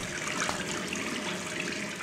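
Water runs steadily from a tap in a bathroom in the video game Gone Home, a continuous hissing splash at moderate level with no pauses.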